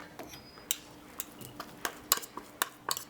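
Drained canned salmon flaked into a bowl with a utensil, heard as light, irregular clicks and taps of metal scraping against the dish over a quiet background.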